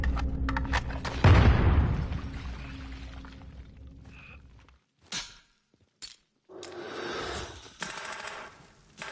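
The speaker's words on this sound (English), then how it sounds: "What the fuck was that explosion?" An explosion in a first-person shooter game, a heavy booming blast with a rumbling roar that fades over a few seconds, followed by bursts of gunfire and clattering game noise.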